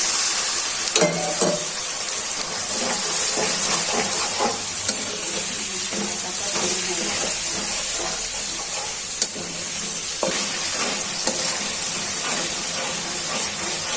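Spice paste for a country chicken curry sizzling in a pan with a splash of water, a loud continuous hiss and crackle with occasional stirring scrapes, no voices.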